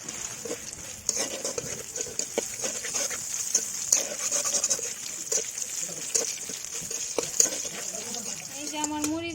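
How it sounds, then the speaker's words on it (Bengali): Dried red chilies fry in oil for a spicy eggplant and tomato mash, giving a steady close sizzle with scattered clinks and stirring sounds and some background noise throughout. "এবার এই তেলের উপরে দিয়ে দেবো যে শুকনা মরিচ।"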